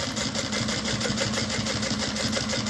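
Close, continuous hum of a sewing machine stitching around the bottom of a fabric bag, steady and loud throughout with no voices.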